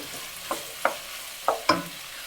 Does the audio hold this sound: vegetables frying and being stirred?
yes